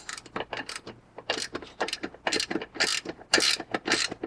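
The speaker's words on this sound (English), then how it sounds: "our lock nut on and use a wrench, 17mm wrench. Tighten this guy down." Ratcheting clicks as a lock nut is tightened with a 17mm wrench while assembling an e-bike rack, irregular bursts of sharp close clicking separated by brief pauses.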